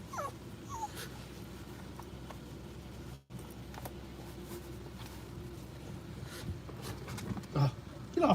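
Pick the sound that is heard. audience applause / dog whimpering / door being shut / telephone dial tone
dog whimpering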